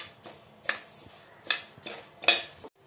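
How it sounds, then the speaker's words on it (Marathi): Coriander seeds and cumin dry-roasting in a pan over a low flame, with a few distinct scraping, rattling stirs spaced apart against near silence, close and moderately quiet. "आता आपण धने जिरे भाजणार आहोत, हे पण छान मंद आचेवर भाजून घ्यायचे।"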